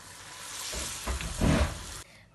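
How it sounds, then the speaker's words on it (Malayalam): Luqaimat, small Arabic sweet dumplings, sizzle as they fry in hot oil, a continuous close crackle that swells with a few louder bursts as the batch is stirred, then drops away at the end. "അടുത്ത ബാച്ച് ലുക്കൈമാത്ത് കൂടി ഫ്രൈ ചെയ്തെടുക്കുകയാണ്"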